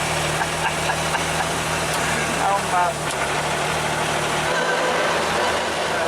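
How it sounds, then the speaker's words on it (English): A Metro 6R4 rally car's engine drones steadily in traffic, loud and continuous under road noise, with brief speech heard over it. "the Metro 6R4 in traffic."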